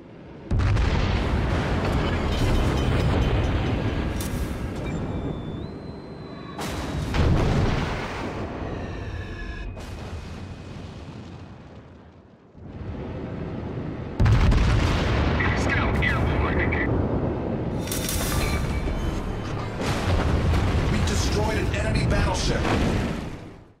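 Battleship main guns firing shells at an enemy battleship in World of Warships, loud booming salvos over a constant heavy roar of engine and ocean noise, with a brief quieter lull midway.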